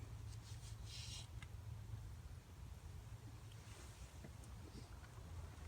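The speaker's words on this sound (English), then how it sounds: "It's windy but warm." Wind blowing at an outdoor camp, a low, steady buffeting rumble against the microphone with faint rustling above it, fairly quiet throughout.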